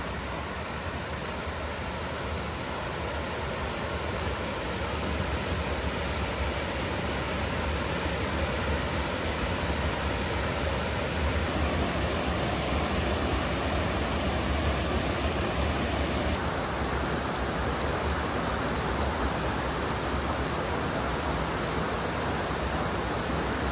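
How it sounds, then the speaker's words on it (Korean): A mountain waterfall and flowing stream on Bangtaesan in autumn give off a steady, loud, broadband rush of water that stays unbroken throughout. "아, 물소리도 좋고. 와, 아, 여기 폭포도 되게 예쁘네요."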